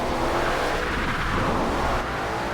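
A 1975 Ford Bronco Ranger drifts with its engine roaring hard and wheels spinning, a loud, continuous broadband rush of engine and tire noise held for a few seconds close to the listener.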